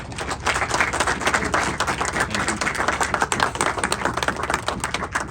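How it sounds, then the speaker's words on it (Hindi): A crowd at a cricket club kit distribution ceremony breaks into sustained applause, many hands clapping steadily and loudly throughout without pause. "तो सबसे गुजारिश है कि एक ज़ोरदार तालियां"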